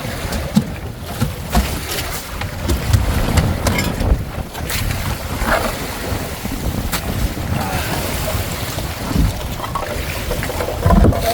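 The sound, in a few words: boat riding through big rough sea waves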